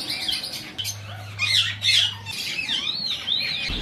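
Caged pet birds in a breeding setup squawk and chirp repeatedly, several shrill sweeping calls overlapping at close range over a low steady background hum.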